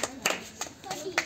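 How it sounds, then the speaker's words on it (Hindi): Scattered clapping at a children's day game, a handful of distinct claps spaced irregularly, with children and adults talking around them. "क्या बात है, तालियां हो जाए।"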